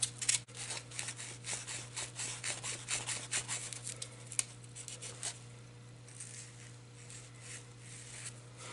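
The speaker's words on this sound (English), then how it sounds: "I took a rod of steel and wrap some Velcro material around it so that I can put some Velcroed sandpaper on there" Velcro-backed sandpaper wrapped on a steel rod rubs against a wooden snowman spinning on a woodturning lathe, giving a steady close scratchy hiss over the lathe's constant low hum, louder in the first half and fading later.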